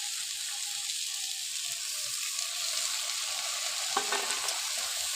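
Prawns frying in a pan with okra give off a steady, dense hiss that runs unbroken, with a single faint clink of a utensil near the end.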